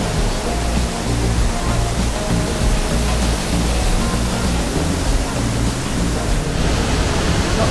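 Krka waterfall in Croatia roars as a loud, steady rush of falling water, broadband and continuous throughout, with no clear voices above it.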